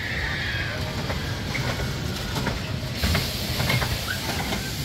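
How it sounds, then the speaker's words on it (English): A small amusement park train, the Tinseltown Train at Six Flags America, rumbles and hisses steadily, with occasional clicks and clanks from the cars, heard up close over a broad noisy background. "So you got a nice little train right here."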